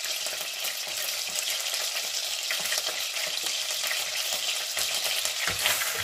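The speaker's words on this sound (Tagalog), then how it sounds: "Umpisahan na po natin mag-bisa muna ng mga... panakot. Kunain muna natin yung sibuyas." Onions sautéing in a hot pan for a butter shrimp dish, giving a steady, close sizzle with faint stirring scrapes throughout and no talking.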